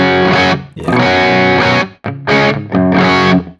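An electric guitar runs through a Nano Cortex amp modeler with a changed cab, giving a loud, thick distorted tone. Sustained chords ring out in three long bursts separated by short gaps.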